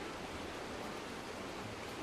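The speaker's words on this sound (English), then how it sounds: "Rage for her roaring rapids and the thundering waves." Roaring river rapids and thundering waves make a dense, continuous rushing roar that holds steady and loud throughout, with no voices.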